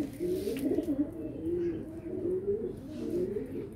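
Madrasi pigeon with clipped wings, a slim, trim bird, giving a low, steady cooing that rolls on continuously at moderate loudness, close by and with no talking.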